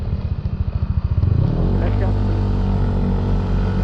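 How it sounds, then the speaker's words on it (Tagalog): A motorcycle engine near Dinadiawan beach in Aurora throbs in rapid pulses as it revs up, then settles into a loud, steady drone passing close behind the rider. "Motor sa likod ko."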